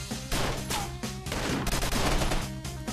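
Rapid bursts of gunfire crackle in the side-scrolling shooter game Mercenary Kings, loud and repeated shots in quick clusters over a layer of game music, with no talk.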